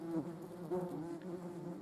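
Hornets and yellow jackets buzz close by in a steady, droning hum, their wingbeat pitch wavering slightly as they fly around.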